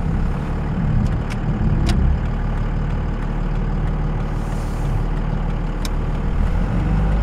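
A 2002 Dodge Ram 2500 pickup on the road, its heavy engine droning steadily and loudly from inside the cab with road rumble and occasional sharp clicks, no talking.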